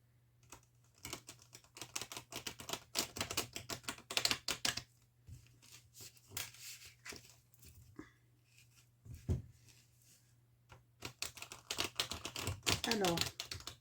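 Tarot cards being shuffled give off quick bursts of soft papery riffling and tapping, close and quiet, broken by short pauses.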